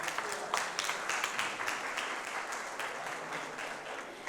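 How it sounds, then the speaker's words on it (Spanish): Audience at a talk on electoral reform applauding a prize winner, a sustained round of many hands clapping that stays fairly even and close, tapering slightly toward the end without talk. "Un aplauso para Matt."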